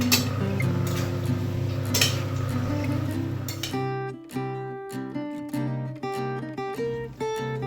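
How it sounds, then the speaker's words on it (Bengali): Chilli chicken stirred in a pan with tongs: a few sharp metallic clinks over a steady frying hiss, then background music takes over for the second half. "আমি সাঁড়াশিটা দিয়ে ধরছি, তারপরে নাড়িয়ে নেব।"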